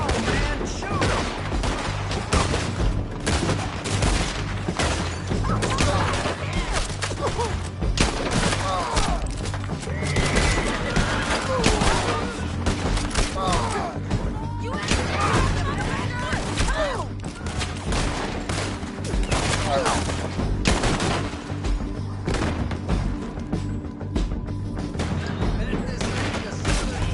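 Sustained gunfire rages through a Red Dead Redemption 2 town shootout, with dense overlapping rifle and pistol shots, thuds and clatter filling the whole stretch at steady loudness, while voices shout over the fighting.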